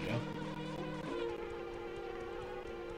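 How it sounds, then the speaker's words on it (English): Bees buzz continuously in a video game, a steady droning hum with wavering tones that holds at moderate loudness throughout, with no voices over it. "I hear bees!"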